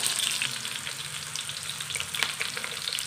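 An onion tempering with cumin, chilies, garlic and a half spoon of salt fries in a pan, a continuous moderate sizzle with light crackles and occasional stirring clicks.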